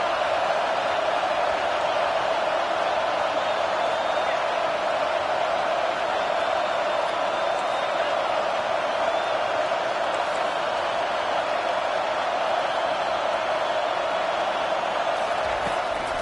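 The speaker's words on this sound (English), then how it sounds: "Decibels rising as the crowd gets behind this defense on 3rd down." A big stadium crowd roars during a defensive third down at a football game, a steady, dense wall of noise that holds for the whole stretch.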